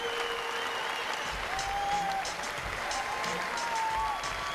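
A crowd applauds steadily throughout at the IFSC Climbing World Championships in Paris, a dense, continuous wash of clapping with faint tonal sounds drifting above it.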